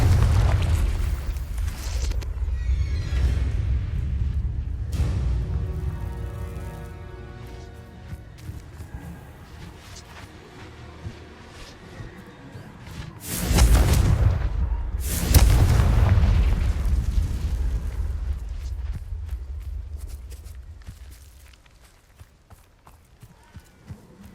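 A Confringo spell blast in Hogwarts Legacy, a deep rumbling boom with a big burst near the middle, heavy low roar swelling and fading amid game ambience and footsteps.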